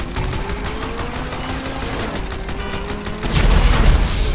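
Rapid gunfire in the PC game GTA V Online during a Vehicle Vendetta match, a fast, loud, steady rattle of shots with a heavier burst near the end.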